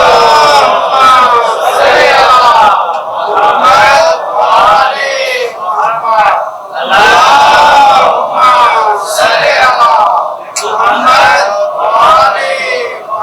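A mosque congregation at Friday prayer loudly recites durood together, many voices chanting in unison in repeated swelling phrases with brief pauses between, close and full.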